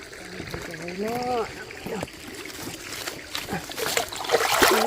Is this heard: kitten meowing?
no